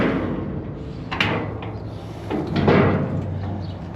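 Shop cabinet doors swing shut and latch with a few solid clunks and knocks, a click of the auto-lock catching in place, close by with no talk.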